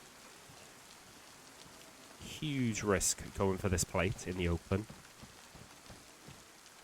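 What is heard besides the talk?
rain falling in the video game DayZ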